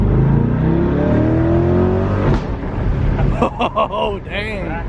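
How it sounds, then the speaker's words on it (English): A 2020 Chevrolet C8 Corvette with stock exhaust revs up loudly and rises in pitch, then crackles and burbles as it drops back, close by, with a brief exclamation from a voice. "that's a stock exhaust too. You don't really get the pops and bangs usually with the stock exhaust"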